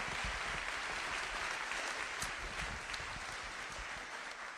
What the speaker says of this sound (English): I think we need to give him a round of applause.